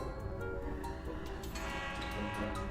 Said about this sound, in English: the trains are coming